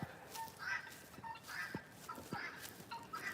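Chickens cluck in short repeated bursts on a ranch, faint and somewhat distant, with a honking goose-like call mixed in.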